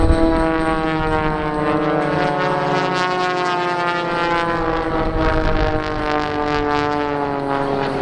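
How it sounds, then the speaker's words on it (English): An aerobatic display plane at an airshow drones overhead with a strong harmonic propeller-engine tone, loud and sustained, the pitch wavering slightly as it manoeuvres. "The remaining two aircraft will join up in formation."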